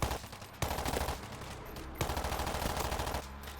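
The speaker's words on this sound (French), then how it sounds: "j'ai fusil à pompe et c'est pas vraiment silencieux ce que je tire" Shotgun blasts in the zombie shooter World War Z, two loud sharp reports about 1.4 seconds apart, each trailing into dense booming game noise and effects.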